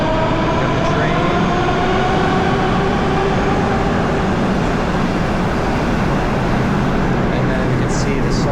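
A Russian metro subway train roars steadily and loudly at close range, with a rising whine of motors over constant rumbling. Voices can be faintly heard underneath.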